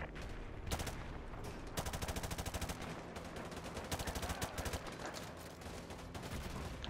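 Rapid automatic gunfire in the video game Modern Warfare 2 Remastered: loud, close, steady machine-gun bursts with dense rhythmic shots throughout and no talk.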